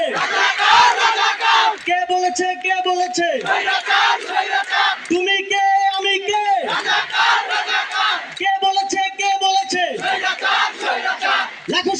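Large crowd chanting protest slogans at a Dhaka University rally, call-and-response phrases shouted in unison in repeated loud bursts, with a lead voice between chants.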